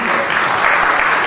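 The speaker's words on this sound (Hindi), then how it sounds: "आपका स्वागत है, ताली बजाइए स्वागत करें।" An audience at a Bhagavat katha religious gathering breaks into applause to welcome a guest, dense and loud clapping filling the short moment.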